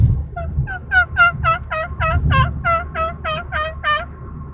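A voice imitating a turkey, giving a rapid series of high, whining yelps about a dozen in a row, close and fairly loud.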